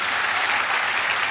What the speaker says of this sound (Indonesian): Tepuk tangan dong biar saya juga semangat.